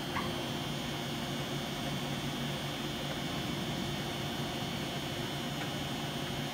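A Mazak AJV25404N vertical machining center drives its Z axis up and down, giving off a steady, unbroken mechanical whir and electrical hum with a broad hiss of noise that holds level throughout.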